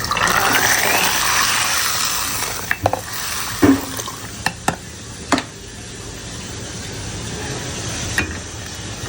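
Meat and potatoes being sautéed in a pan for a curry, a steady watery sizzle with several sharp clanks of a spoon against the pot, fairly loud and close, with no voices.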